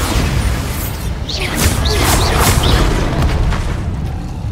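Booming Bombarda explosion spell in Hogwarts Legacy, a loud burst with crackling debris and whooshing magic effects, several rapid impacts in close succession over a heavy low rumble.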